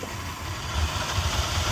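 An engine left running to warm up, a steady low rumbling idle with a slight pulsing throb, close and fairly loud.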